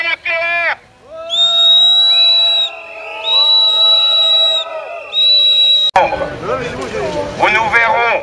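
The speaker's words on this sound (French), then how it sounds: "Encore une fois, sifflons le lobby nucléaire." Protest crowd in front of Strasbourg station, gathered against a nuclear waste train, whistling at the nuclear lobby: several long, piercing whistle blasts in bursts, then mixed whistles and crowd noise with voices.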